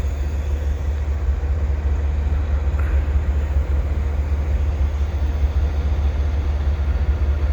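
A long CP double-stack freight train rolls past in winter with a loud continuous low rumble and steady wheel noise that never lets up, and no voices.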